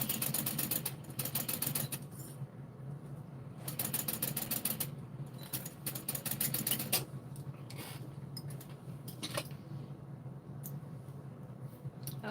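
Sewing machine stitching down a folded fabric edge on a mini backpack, running in quick mechanical bursts with short pauses between them.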